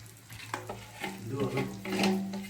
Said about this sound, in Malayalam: അത് നമുക്ക് ഇളക്കി ഇളക്കി ഫ്രൈ ആക്കി എടുക്കാം